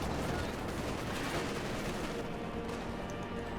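Dense, continuous gunfire and battle noise from the World War II strategy game Company of Heroes 2, with Wehrmacht infantry and a Panzer IV engaging Soviet forces; steady, loud and unbroken with no pauses.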